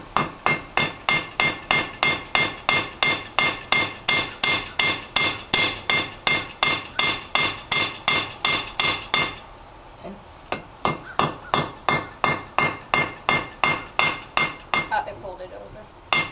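A hammer strikes hot steel on an anvil at a steady quick rhythm while a hook is being forged and flattened, ringing sharply. After a short pause the rapid blows resume.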